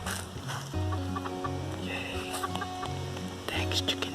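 Chickens cluck and murmur close by, with a hum of background noise and some voices mixed in.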